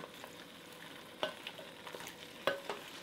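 Shrimp paste (bagoong) sizzling quietly in a pan for pinakbet, a faint low hiss with a couple of sharper clinks from stirring, close but soft with no voices.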